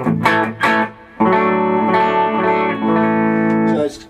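An electric guitar plays through the clean channel of a Blackstar HT Dual pedal. Two short plucked notes are followed by a bright sustained chord that rings for a few seconds, loud and close, with no voice.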